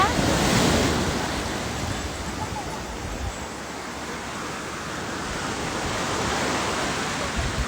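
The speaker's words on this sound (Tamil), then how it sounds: "கடற்கரை கிட்ட நிற்கிறோம்" Ocean surf at Tiruchendur beach rolls in as a continuous broad roar, loud and near, swelling and easing over several seconds with wind buffeting the microphone.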